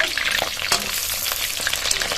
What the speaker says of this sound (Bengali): গরম তেলে একে একে মাছ দিয়ে দেবো